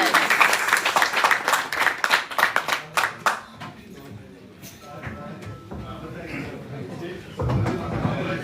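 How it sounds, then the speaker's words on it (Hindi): Clapping from an audience welcoming a guest at a stage event, a run of sharp, rhythmic handclaps in the first half that fades into quieter room noise and talking, then a louder burst at the end. "सबका इस्तकबाल तालियों में करते हैं।"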